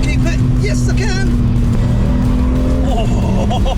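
A car launching hard on a race track, engine revs climbing steeply through the gears with tire noise beneath, loud and close, with a voice partly audible over it.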